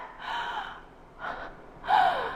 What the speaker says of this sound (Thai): ตอนดูลมหายใจเข้าที่ใครหายใจเข้าแล้วเป็นแบบเนี้ย